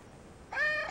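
A male cat lets out a single clear, drawn-out meow, close and fairly loud, rising after a moment of quiet room tone.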